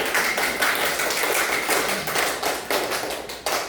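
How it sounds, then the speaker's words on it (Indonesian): Applause from a class of students in a school classroom, a dense patter of many hands clapping steadily for a few seconds, fairly close and loud with no talking over it. "Tepuk tangan buat kalian semua"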